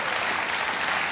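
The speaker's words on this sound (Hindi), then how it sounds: "सर एक तालियां उनके लिए भी हो जाए।" A studio audience on a television quiz show claps loudly and steadily, a thick wash of applause with no talking.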